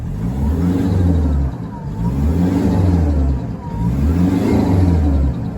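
Car engine with about 250,000 km on it revs loudly in repeated rising pulls, a steady whine riding over the low engine drone throughout.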